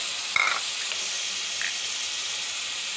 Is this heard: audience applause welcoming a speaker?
no